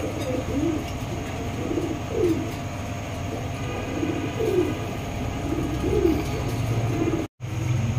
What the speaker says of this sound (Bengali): খুব ছটপট টাইপের কবুতর